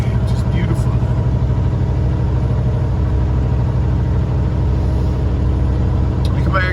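A truck engine pulls steadily up a steep driveway in third gear at about 1,500 RPM, a loud, constant low rumbling drone, with someone talking over it.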